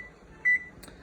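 A kitchen timer gives one short, thin electronic beep, faint and alone in a quiet room during home beer brewing, followed by a small click.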